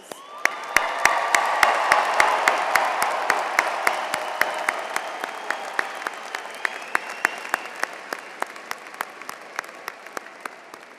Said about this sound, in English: Now let's all give the class of 2025 a round of applause.